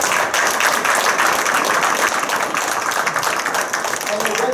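Audience applause at a Belmar borough council meeting honoring the St. Patrick's Day Parade grand marshals, a dense steady wash of many hands clapping at moderate level through the whole span, with some voices mixed in.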